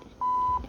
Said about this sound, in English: spamming the censoring sound